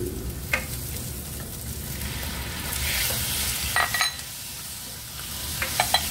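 Chicken pieces hitting a hot pan for sotanghon guisado, with onion already in, give a steady loud sizzle and frying hiss, broken by a few stirring clinks, close up and without talk.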